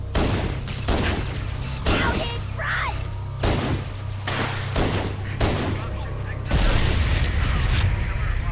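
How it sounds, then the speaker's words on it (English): Pistol fire in a Halo game rings out as a series of single shots spaced roughly a second apart, mixed with game effects and a few short creature calls. "Put your assault rifle away, pull out the pistol, and start shooting grunts in the head."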